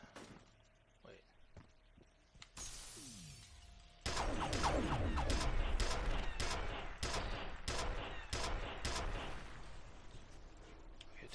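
Rapid gunfire from a weapon in the game F.E.A.R., a sustained volley of sharp, evenly spaced shots after a brief shattering crash, loud and close over a low background hum.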